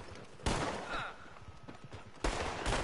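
Two sharp bursts of gunfire from the video game Red Dead Online, each a loud close volley followed by rattling follow-up shots and brief echoing tails.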